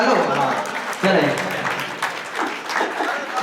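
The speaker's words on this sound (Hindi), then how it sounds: "बजाओ जोरदार तालियां भैया" Crowd applause at a foundation-stone ceremony for a large new stone Jain temple in Badshahpur, Haryana, sustained clapping from many hands throughout, with a voice speaking over it.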